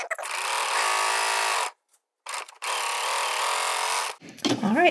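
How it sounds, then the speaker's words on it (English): A serger runs in two steady, fairly close bursts as it finishes a sleeve seam flat for a Simplicity 9780 garment, with a short pause between runs and a brief rustle of fabric at the end. "so I'm going to go ahead and serge them flat"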